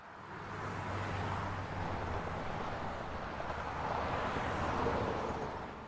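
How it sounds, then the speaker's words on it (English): A traffic ambience effect: a steady, distant wash of road noise with a faint low vehicle rumble, continuous and even throughout with no voices. "For the traffic ambience, I just search for the traffic."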